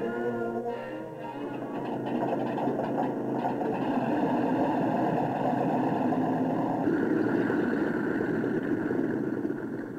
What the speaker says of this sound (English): As they listen to the engine ticking over perfectly